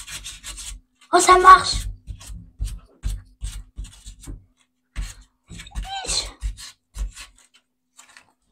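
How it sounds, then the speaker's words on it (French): A balled-up item scrubbed against limescale in a bathroom gives quick, close rasping strokes in rhythmic bursts, loudest in one strong stretch, with a short spoken exclamation partway through. "on va essayer de frotter pour voir si ça marche. On le met en boule et on frotte."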